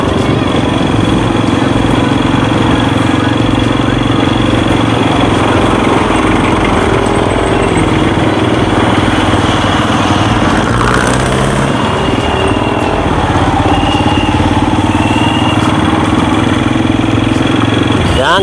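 A motorcycle engine with a worn clutch runs steadily throughout, a constant mechanical drone with a few subtle shifts in tone and no pauses.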